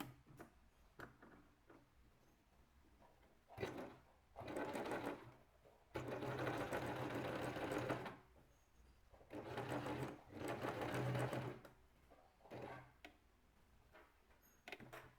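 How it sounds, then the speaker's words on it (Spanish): A sewing machine runs an overcasting stitch, number 4, in several loud bursts of rapid whirring separated by quiet pauses and clicks, heard close up with no talking. "Voy a hacer el sobrehilado con la puntada número 4."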